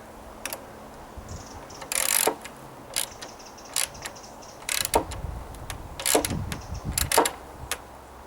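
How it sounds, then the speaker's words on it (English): Two ratchet socket sets turn bolts on a garden swing frame, giving bursts of quick metallic clicking and ratcheting with short pauses between strokes, close and fairly clear against a quiet background. "So there's two socket sets there, going to work in tandem with each other."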